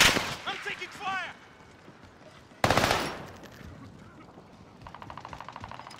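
Gunfire bursts in Call of Duty: Modern Warfare, with a loud crack near the middle followed by a rapid run of shots, preceded by game voices and noise.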